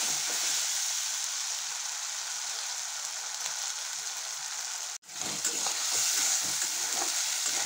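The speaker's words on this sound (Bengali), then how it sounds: "মশলা কষানো হয়ে গেছে" Spice paste of ginger-garlic paste, coriander, cumin, turmeric and chili frying in a pan for a mutton and eggplant curry, a steady close sizzle with soft stirring scrapes and a brief dropout partway through.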